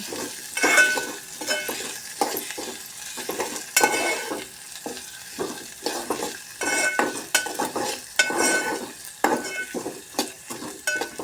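Onion frying in a pan for a fresh green pea curry, a steady sizzle broken by repeated rhythmic scrapes and clinks of a spatula stirring, close and fairly loud throughout with no talking.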